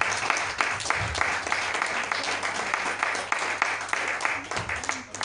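Church congregation applauding Jesus, a sustained crowd of many hands clapping steadily throughout, with voices faintly beneath the applause.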